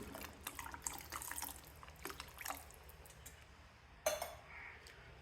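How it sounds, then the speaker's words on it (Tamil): Water splashes and trickles in short bursts as it is poured into a pot of drumstick coconut-milk curry, with a brief louder splash near the end. "இந்த கொஞ்சம் தண்ணி விடலாம்"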